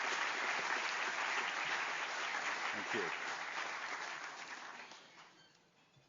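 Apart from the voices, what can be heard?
audience applause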